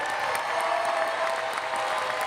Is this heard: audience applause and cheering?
yes